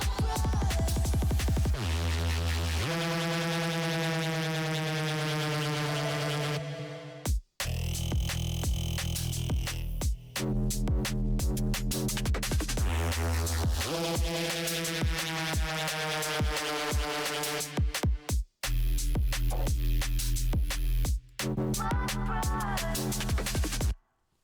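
Breakdown of a drum and bass track built in Ableton with the Serum synth: dense, loud full-mix electronic music with sustained pad and bass tones, punctuated by several abrupt dropouts and hard cuts, no voices.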